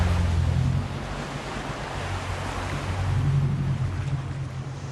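Ocean surf rolls in at Copacabana Bay in Rio as a steady, loud wash of breaking waves, with gusty wind buffeting the microphone throughout.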